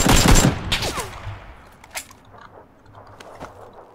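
Gunfire in the PUBG battle royale game: a loud, close burst of rapid shots at the start, then a few fainter scattered cracks and distant shots trailing off over the next few seconds.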